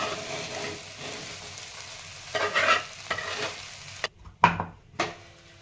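Sabudana khichdi with peanuts is stirred in a frying pan, soft sizzling under a few scraping strokes of the spoon, then sharper clinks and scrapes near the end, close and fairly quiet.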